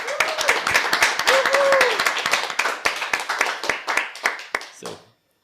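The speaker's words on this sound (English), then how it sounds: "a big round of applause for them" A small conference audience claps in sharp, distinct, uneven hand claps that thin out and stop after about five seconds. A voice briefly rises over the clapping near the start.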